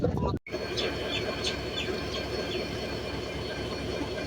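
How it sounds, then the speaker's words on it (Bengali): The Madhumati Express passenger train rumbles steadily past leaving Pachuria Junction station in rain, with a continuous low roar and faint wheel squeals, after a brief dropout at the start. "মধুমতি এক্সপ্রেস ট্রেনটি কিন্তু পাতুরিয়া জংশন রেল স্টেশন ছেড়ে গেল"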